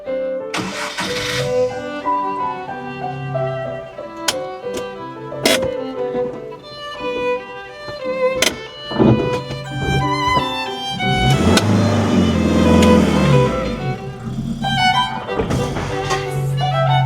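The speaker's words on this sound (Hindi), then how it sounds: "गाड़ी चढ़ने में थोड़ा प्रॉब्लम कर रही है, एकदम चढ़ाई है ना" A van's engine restarts after stalling on a steep uphill bridge crossing near Naran, Pakistan, then revs hard in a sustained, strained roar that swells loudest toward the end.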